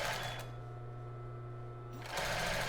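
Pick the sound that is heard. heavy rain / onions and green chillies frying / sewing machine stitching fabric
sewing machine stitching fabric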